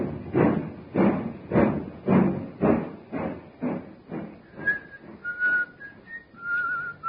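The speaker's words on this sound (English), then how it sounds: "He's whistling merrily, a man with nothing on his mind except his love affair and the prospect of the week ahead." A man whistles a cheerful tune on a railway platform in an old radio drama, with rhythmic thudding footsteps under the first half and clear, sustained whistled notes emerging toward the end.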